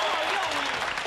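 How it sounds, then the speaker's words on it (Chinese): A studio audience at a televised variety magic show breaks into loud, continuous applause, with a voice speaking over it. "掌声鼓励"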